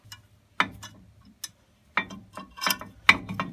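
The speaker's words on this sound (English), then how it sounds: "I'm going to need to compress the piston so that we can get the caliper to fit" Brake caliper piston being compressed on a 2002 GMC Sierra Z71, a series of close, sharp metallic clicks and ratcheting taps in irregular bursts over a faint low hum.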